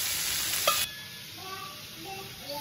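Vegetables for sambar sizzle in a hot pan with a steady frying hiss, a brief stir, then quieter crackling.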